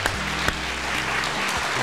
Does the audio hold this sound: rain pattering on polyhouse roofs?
no